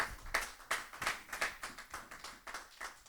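A church congregation claps in unison in a steady, even rhythm of about three claps per second. The sound is moderately close and somewhat soft, with no talking over it.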